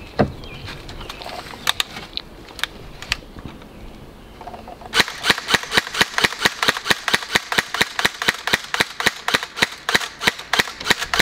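A pellet rifle fires a few scattered sharp cracks, then a long, rapid run of snappy shots in a quick, fairly even rhythm, close and loud.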